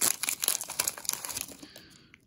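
A Pokémon Sword & Shield booster pack wrapper being torn open and crumpled, close and crisp crinkling in quick bursts that fade out toward the end.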